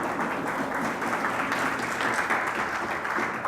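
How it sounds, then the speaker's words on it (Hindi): Church congregation clapping loudly in thanks during a worship service, a sustained wash of many hands at a moderate, even level with no speech on top. "जोरदार ताली से उस खुदावन यीशु मसीह को धन्यवाद करते हैं।"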